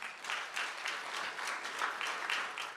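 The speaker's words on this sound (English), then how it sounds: "That deserves a round of applause." A tourism summit audience in the Virgin Islands gives a round of applause, a moderately distant, even wash of many hands clapping that carries on steadily without a break.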